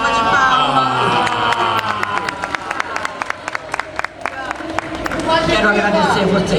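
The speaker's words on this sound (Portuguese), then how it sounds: "Uma salva de palmas." An audience at a Brazilian dubbing panel applauds and cheers loudly, with steady clapping, whoops and shouts throughout and voices mixed in.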